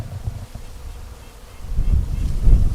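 Honey bees swarming around a wax-coated fir or ponderosa pine beehive, a close, continuous buzzing that grows louder and denser toward the end.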